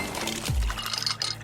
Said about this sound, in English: Those are the sounds of the Samsung Bespoke Refrigerator's Beverage Center with internal water dispenser